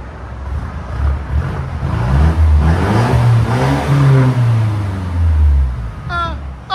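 A 2016 Mercedes C 300 with a 2.0L turbo engine and straight-pipe exhaust revs up and holds a loud, droning, rising note for several seconds, close by, with no talking.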